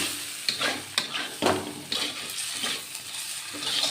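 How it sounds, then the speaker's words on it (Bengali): Spoon scraping and stirring through pointed gourd, potato and soya chunks frying with turmeric and chili in a pan, a steady sizzle broken by regular scraping strokes about every half second, close and alone. "তো এটা এর মধ্যে দিয়ে দিলাম, ভালো করে নেড়ে নেব।"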